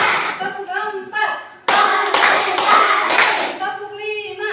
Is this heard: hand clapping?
yes